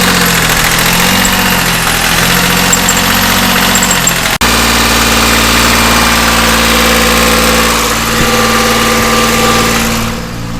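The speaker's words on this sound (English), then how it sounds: "Satisfied that the motor was definitely out of gas, and we got it running again." A sailboat's inboard engine idles steadily after air is bled from its fuel line, a loud continuous mid-low drone with a brief dropout partway through before settling into an even hum.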